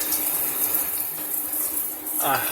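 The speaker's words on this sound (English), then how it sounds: "that's how the water comes out that way, and the water's all the way on" A chrome Euphoria 2 hand shower sprays at full flow, producing a steady, bright hissing rush of water throughout.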